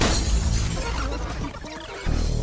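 Glass shatters during the firebombing of a bodega deli in Brooklyn, New York, a loud sustained crash and breaking burst over about two seconds before a dense, noisy rumble returns.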